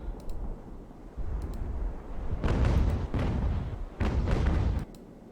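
Broadside cannon fire from sailing warships in the naval game Ultimate Admiral: Age of Sail, several heavy booming shots rolling out in clusters over low ambient rumble.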